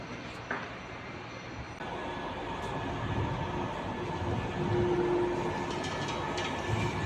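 A Manchester Metrolink tram from Salford toward the city center rolls into a stop with a low rumble and rising rail noise that grows steadily louder, over outdoor platform ambience.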